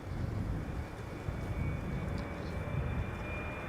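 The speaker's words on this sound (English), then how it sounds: "time for another 777-300 arriving from Atlanta, Georgia, KLM flight 622" A KLM Boeing 777-300, three years old, arriving at Amsterdam Schiphol on a flight from Atlanta, with a steady broad jet engine roar carrying on throughout under some wind buffeting on the microphone.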